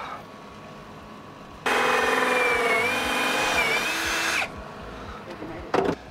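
A small hole saw cuts through a multi-ply aquarium sump wall, a loud steady whining drill run of about three seconds, with a faint quieter buzz shortly after.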